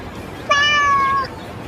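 Someone mimics a cat with one drawn-out, nasal meow, clear and close, lasting under a second against a quiet background.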